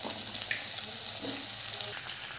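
Potatoes sizzle as they fry in oil in a kadai for an Assamese fish curry, a steady bright hiss with faint clinks, fairly quiet, dropping off slightly near the end.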